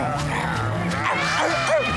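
Dogs barking and yipping in a Spanish-dubbed animated cartoon of Simba the lion, a busy layered scene with the barks mixed among music and effects.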